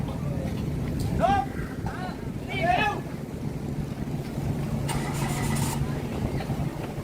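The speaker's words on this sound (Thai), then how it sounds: "ลมทะเลก็อาจจะค่อนข้างแรง" Strong sea wind blowing across an outdoor stage at a seaside temple, a steady roaring rumble with gusts, and a few brief vehicle or horn-like tones passing over it.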